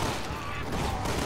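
Gunfire from Resident Evil 6, a dense, continuous fusillade of shots close and loud, layered with game sound and voices across the whole short stretch.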